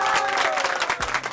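A studio audience on a television talk show breaks into applause, a dense patter of clapping that fills the short moment and begins to thin toward the end.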